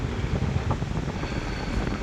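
Strong wind buffets the microphone at sea during a fishing trip, a steady loud roar with low rumbling gusts and wave wash throughout, no voices.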